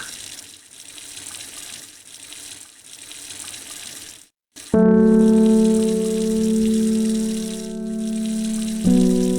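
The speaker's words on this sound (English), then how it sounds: "Gotta water all the plants." Plants being watered in the video game Strange Horticulture: a steady flowing, splashing pour like a running tap, with a short break partway through, then a sustained tonal hum over the water that continues to the end.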